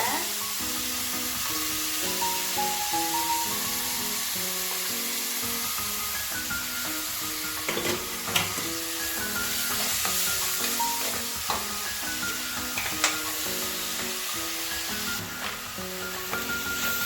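Onions sautéing in a pan while cooking paneer butter masala, a steady loud sizzle with scraping and stirring clatter throughout.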